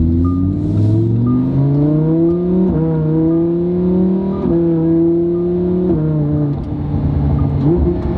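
Close, loud car engine revving in repeated rising pulls with brief dips between them, a rough crackly edge to the exhaust note.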